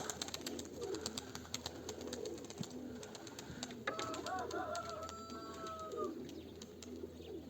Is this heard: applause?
no